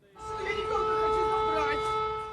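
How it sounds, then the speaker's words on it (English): Air-raid sirens sound in the city of Donetsk, a steady, sustained tonal wail that fills the short stretch, with a voice speaking over it. "in the breakaway capital of Donetsk, sirens wailing"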